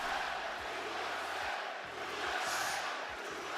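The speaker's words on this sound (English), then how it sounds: "Great crowd reaction, man." A large wrestling arena crowd at a live WWE Raw event roars and chants steadily, a dense, loud wall of voices that swells and dips slightly throughout.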